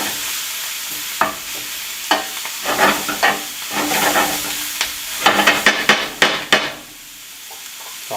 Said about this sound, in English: So I'm going to stir it a bit, get the broccoli down to the bottom, get some heat on it.